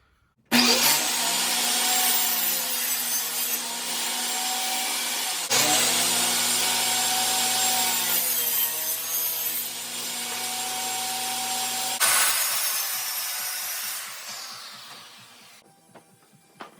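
Power saw notching the back edges of wooden side panels for a TV dresser, three long continuous cutting passes with a steady whine and raspy wood noise, close and loud, winding down at the end.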